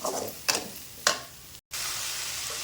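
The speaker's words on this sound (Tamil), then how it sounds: "இதையும் போட்டு நல்லா ரெண்டு பெரட்டி பெரட்டி விட்டுருலாம்" Sambar powder stirred into white pumpkin curry in a pan: steady sizzling from the cooking food, broken by three scraping stir strokes, close and clear, with no voices.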